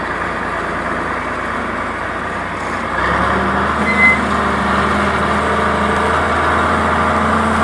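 A tractor engine pulls a disc harrow while cutting weeds and levelling land, rumbling steadily nearby; the engine note grows heavier and louder partway through.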